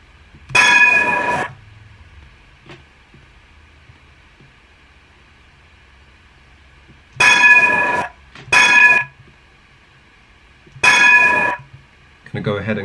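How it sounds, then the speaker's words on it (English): A tram sound sample with background noise carries bright, ringing bell-like clangs in four separate bursts spaced out over the clip, each loud and short, with a quiet steady hum between them. "I've dragged the tram sound into FL Studio."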